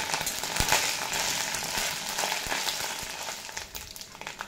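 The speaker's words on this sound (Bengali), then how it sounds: "এবার এড করে দেব সামান্য আদা বাটা, দিয়ে আদা বাটার কাঁচা গন্ধ চলে যাওয়া পর্যন্ত ভেজে নেব" Ginger paste fries in a pan with a dense crackling sizzle and a few sharp ticks and pops, heard close and fairly loud, with no talking.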